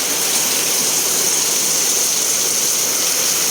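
Heavy rain pours down steadily in Bicol, Philippines, with water running down from above, a dense, loud hiss of water rushing and splashing without pause throughout.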